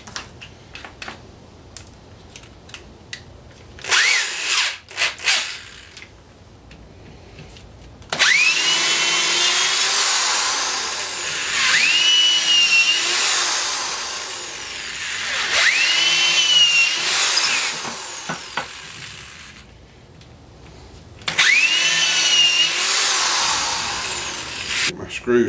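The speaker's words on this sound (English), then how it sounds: "Now for some countersinks." A power drill cuts countersinks into wood for a shaving horse in several long, loud whirring bursts that rise and fall in pitch, with quieter handling knocks and pauses between them, all close by.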